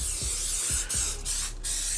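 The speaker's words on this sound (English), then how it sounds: "And I'm just gonna spray it down real good." Cooking spray hisses onto a cake pan in a home kitchen in a steady spray lasting nearly two seconds, broken by a few brief pauses, close and fairly loud.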